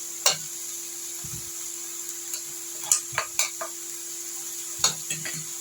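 Chili powder being stirred into a frying crab curry: a spoon scrapes and clinks against the pan in scattered strokes over a soft, steady sizzle, close by and with no talk.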